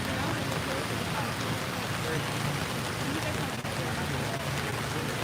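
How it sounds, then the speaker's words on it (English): Steady rain falls outdoors, a dense, even hiss of drops pattering on surfaces that fills the whole stretch, close and fairly loud with no pauses. "We're out here in the rain today."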